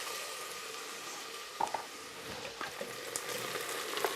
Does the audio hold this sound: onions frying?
yes